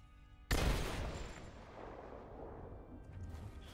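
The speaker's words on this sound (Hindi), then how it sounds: "मैंने फिलहाल इनका एक जनरेटर उड़ा दिया है" A generator blown up in Rise of the Tomb Raider bursts with one sudden loud blast, then a long rumbling decay of debris and roaring fire fading gradually, with no voices over it.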